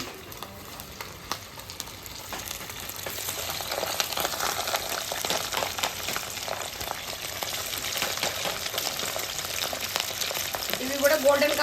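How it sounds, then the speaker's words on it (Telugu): Fish pieces for pickle fry in oil with a dense, steady crackling sizzle that gradually grows louder, with a few soft stirring sounds near the end. "కలర్ వచ్చే వరకు వేయించుకోవాలి గోల్డెన్ కలర్ రావాలి"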